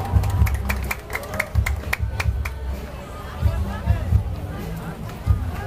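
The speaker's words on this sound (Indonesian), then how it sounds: "Kita berikan tepuk tangan buat Rumah Sampir Gandra Denengan dalam Manado." Crowd clapping for a masamper singing group at Manado Fiesta 2019, brisk claps under a steady murmur of audience chatter, with a voice speaking over it at times.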